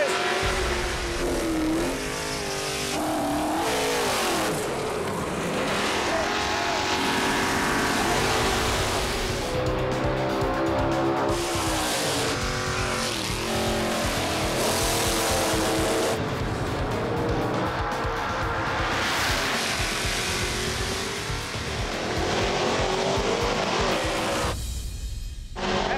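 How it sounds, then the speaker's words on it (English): Drag race cars do burnouts at Bandimere Speedway, loud revving engines rising and falling with screeching tire squeal, continuous and dense across the whole stretch. "Let's see the burnouts, boys."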